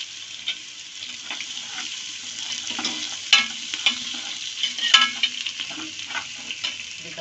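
Green chilies, ginger and garlic fry in a pan for mushroom biryani, a steady close sizzle broken by several louder stirring scrapes, with no one talking.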